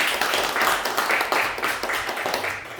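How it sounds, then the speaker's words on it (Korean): Steady, close applause from a lecture audience at a public humanities talk, many hands clapping continuously with slight swells throughout. "다시 한번 뜨거운 박수"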